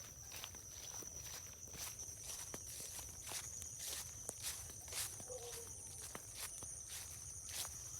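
Steady footsteps crunch along a path through rice fields at sunset, evenly paced and close, with a constant high insect drone and low rural wind noise beneath.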